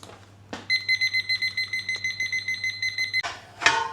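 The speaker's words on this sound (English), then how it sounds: "I'm going to stick my little timer on." A kitchen timer goes off while chicken cooks in the oven, sounding a rapid run of bright, evenly spaced electronic beeps. The beeping is fairly loud and close and cuts off abruptly, with a clatter before and after.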